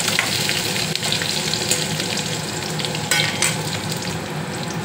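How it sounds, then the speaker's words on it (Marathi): Ginger and garlic sauté in a pan for paneer gravy, giving a steady, close, loud sizzle with occasional stirring scrapes and no voices. "त्यात अद्रक लसूण, हे थोडं सॉटे करून घेऊया।"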